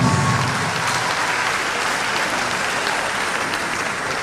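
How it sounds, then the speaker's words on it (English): An audience gives sustained, even applause for a university inaugural lecture on applied entomology and pest management, the dense clapping holding steady and fairly loud throughout. "A round of applause for the inaugural lecture."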